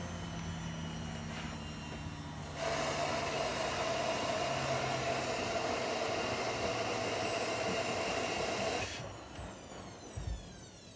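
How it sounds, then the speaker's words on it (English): A Beko WM74135W washing machine runs its turbo drum clean with a tired-sounding motor, giving a steady loud whirring roar that starts abruptly, holds for several seconds, then cuts back to a lower hum. "The motor sounds a bit tired"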